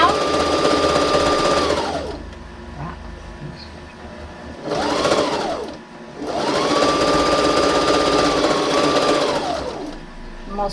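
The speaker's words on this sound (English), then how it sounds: "Then I'm going to sew down." A sewing machine stitches a cloth face mask in two long runs, its motor whirring steadily up to speed and winding down, with a short burst between them and a pause before the second run.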